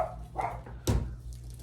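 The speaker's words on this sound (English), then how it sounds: "I started this video so many times because she's barking" A pet dog indoors barks a few times close by, one sharp loud bark standing out among softer yips, in a quiet room with a low hum.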